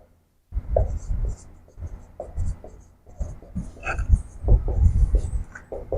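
Pen scratching on paper as notes are written during an art theory class, steady close scratchy strokes in irregular bursts with brief pauses, fairly loud and alone.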